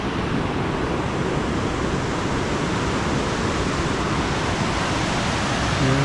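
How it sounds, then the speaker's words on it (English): Steady rushing water in a rocky gorge far below a swaying bridge on a forest cedar hike on Yakushima Island, Japan, a loud, continuous broadband roar with no pauses, carrying on unbroken throughout. "Look at that down there. The water down there."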